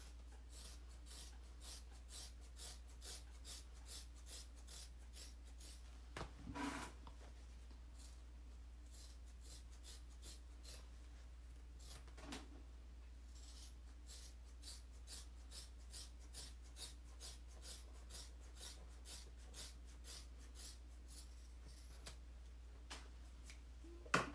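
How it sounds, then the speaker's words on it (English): Scissors trim the fabric seam allowance of a sewn saddle bag, with a long run of quick, evenly spaced soft snips, close and quiet with no talk. "So now we can trim down our seam allowance to 1/4 inch."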